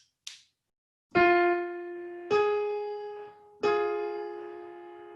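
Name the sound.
minor third interval played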